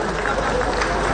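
A crowd applauds students being honoured at an official function. The clapping is a brief, continuous burst, loud and even, with a voice mixed in underneath.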